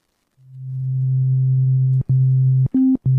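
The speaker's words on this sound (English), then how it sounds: "we then also have a sine wave." A steady, pure low sine tone from a synthesizer sub oscillator hums continuously, briefly cutting out and then stepping up to a slightly higher pitch in short bursts near the end.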